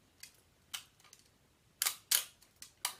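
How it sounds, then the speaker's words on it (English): An SLR film camera fires its shutter several times, each release a sharp close mechanical clack of the mirror flipping up and back down, with quieter clicks between in a quiet room. "the mirror flies up, the shutter opens and shuts, the mirror comes back down again"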